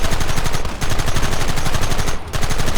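Rapid, loud gunfire from the Red Dead Redemption video game, a dense volley of repeated shots rattling continuously with two brief pauses.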